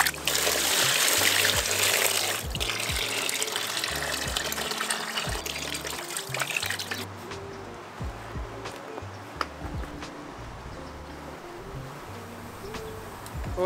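Water poured outdoors to rinse loc'd hair, a loud continuous splashing gush at first that thins to trickles and scattered drips, close by, with no talking.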